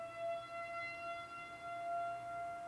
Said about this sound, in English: That sounds like a tornado siren.